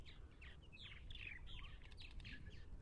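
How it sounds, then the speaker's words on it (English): Purple martins calling at their colony, a busy overlapping chorus of chirps and chatter, moderately distant and faint over a low rumbling background. "When you get 100 birds here, it gets a little noisy,"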